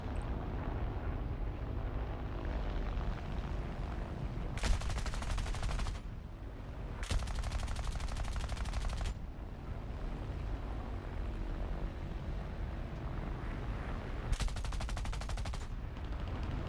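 Bursts of Spitfire gunfire in the War Thunder flight combat game, sounding as several sustained crackling volleys of a second or two each over a constant loud engine and wind roar, with no talking.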